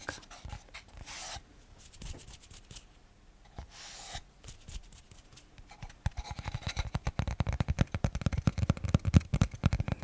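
Light tapping on a wooden postcard, scattered and soft at first, then turning into a steady run of quick, crisp taps close to the microphone.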